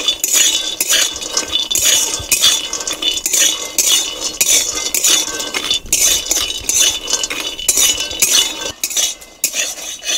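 Dry fruits dry-roasting in a hot, oil-free wok are stirred with a metal spatula in quick repeated scraping strokes, clinking and rattling loudly and close by in a steady rhythm, with no voices.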